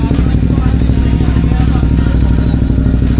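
Motorcycles at a big bike event, with engines idling and revving in a steady, loud, close rumble throughout and crowd voices mixed in underneath.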